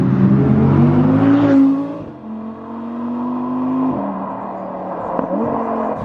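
Naturally aspirated 5.2-litre V10 in an Audi R8 V10 Performance, loud and close, its rev rising then dropping and settling into a steady drone before another gentle climb and dip, with no voices.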